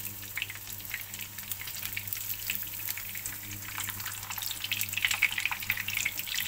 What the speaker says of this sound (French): Donc voilà nos filets de saumon dans l'huile bien chaude.